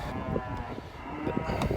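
Cattle on a farm moo over steady outdoor background noise, with a few calls rising at moderate distance across the short stretch; no speech is heard.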